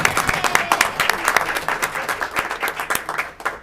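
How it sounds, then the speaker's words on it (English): An audience applauds at a school board meeting in Salem-Keizer, dense clapping from many hands that holds steady and then fades toward the end. "So please welcome Hudson with a big applause"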